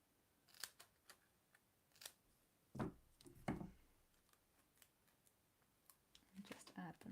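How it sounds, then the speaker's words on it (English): Thin strips of foam being cut for a Christmas craft, heard as a few soft, close snips spread over several seconds in a quiet room, with a couple of louder cuts near the middle. "I'm going to cut some thin strips of"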